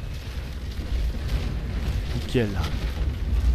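Cannon fire in the naval battle game Naval Action rolls as a continuous low booming rumble, loud and close, while a voice speaks briefly over it.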